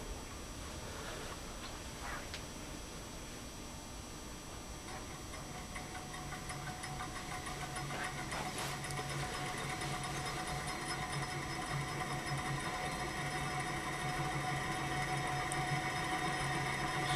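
A high-temperature gamma Stirling engine spins up after warm-up, its flywheel turning with a steady whirring hum and fine mechanical ticking that grows slightly louder and more tonal as it gains speed.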